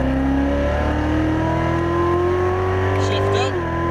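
A Chevrolet Corvette C7 Z06 on a race track at Exotics Racing Las Vegas pulls hard out of a corner, its engine note climbing steadily and loud throughout, with brief tire noise near the end and a coaching voice over it.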